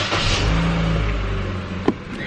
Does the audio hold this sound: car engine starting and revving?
yes